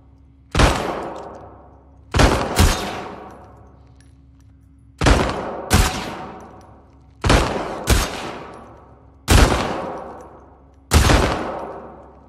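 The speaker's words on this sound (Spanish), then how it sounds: "¿Una competencia de disparos?" Gunfire from a friendly shooting contest in the video game The Last of Us Part II, with sharp loud shots arriving in pairs, each followed by a decaying echo, repeating about six times over a low steady hum.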